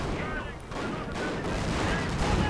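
A Stu 42 assault gun fires on a howitzer in a World War II strategy video game, a dense, muffled rumble of cannon and gunfire booms rolling continuously at a modest level.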